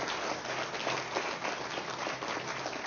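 Audience applause at a groundbreaking ceremony for a wellness center, a steady wash of many hands clapping at moderate distance, fairly soft and even throughout.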